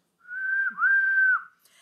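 A voice imitates a steam train engine's whistle: one clear, sustained high whistled tone that dips briefly in the middle, then holds before stopping, heard alone in silence.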